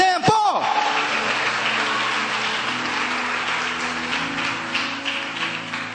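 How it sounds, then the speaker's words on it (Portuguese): Church congregation applauding during a Sunday afternoon service, with a broad, continuous roar of clapping that starts abruptly and holds steady, joined by a sustained tone and voices underneath. "Dê um aplauso a esse Deus nessa tarde"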